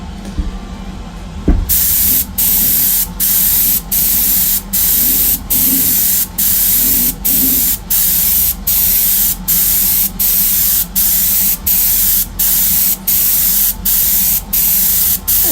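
Airbrush spray hisses loudly into a Greek-style vase, resonating through a hole in its base, in a rapid, regular pulsing pattern of short bursts with brief gaps, steady and close throughout.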